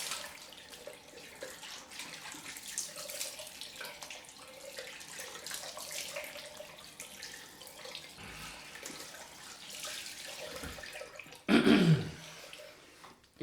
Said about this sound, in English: Give this a rinse off.